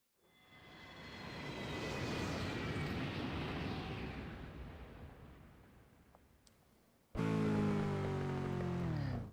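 Fixed-wing aeroplane in the racing game Test Drive Unlimited 2, a loud sustained engine roar with a high whine that swells and slowly fades over several seconds, then cuts abruptly to a louder, closer engine drone.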